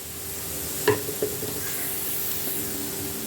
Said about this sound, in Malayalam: വീണ്ടും നമുക്കൊന്ന് ഇളക്കി കൊടുക്കാം.